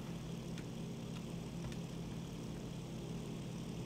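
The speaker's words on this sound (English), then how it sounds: "here comes a flight of planes. Coming right towards us" Propeller warplanes in the IL-2 Sturmovik 1946 flight combat game drone steadily as a flight approaches, a dense continuous engine roar with no talk over it.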